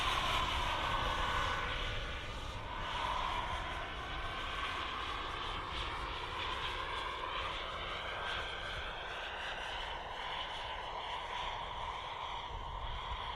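A model turbine jet aircraft flies at the Popham model airshow, its thin whining roar steady and fairly loud and shifting slightly in pitch as it passes, with no voices over it.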